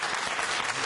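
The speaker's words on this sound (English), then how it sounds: "A lot of 16 and 17-year-olds applauding." A studio audience on a televised debate in Glasgow bursts into applause, a thick, even wash of many clapping hands sustained throughout the short moment.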